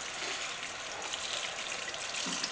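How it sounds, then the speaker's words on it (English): Hot tap water running steadily over a leather holster, a continuous close splashing hiss with faint gurgles, no talk. "put the leather under the running hot water"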